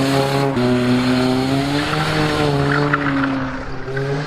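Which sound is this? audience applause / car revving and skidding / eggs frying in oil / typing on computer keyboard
car revving and skidding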